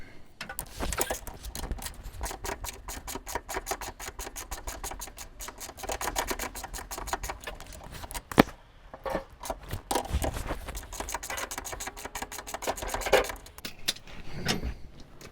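Wrench working a bolt loose on the rear shock of a Z1, a steady run of close, rapid metallic clicks and scrapes with a sharper clank partway through and brief pauses.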